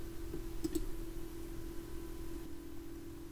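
A mouse click as a form is submitted on a website: a couple of quick, faint clicks close together, alone over a low, steady electrical hum.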